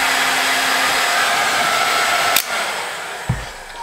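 Tacklife HGP35AC mini heat gun running at its top setting, around 400 degrees, giving a steady loud broadband blowing roar with a faint fan hum, a sharp click partway through and a brief low thump near the end.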